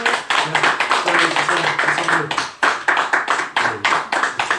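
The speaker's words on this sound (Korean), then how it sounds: "여러분 박수 한번 치시죠" A church congregation claps together during a New Year Sunday service appointment ceremony, a short burst of brisk, fairly close hand claps in a rhythmic pattern with a faint murmur of voices beneath.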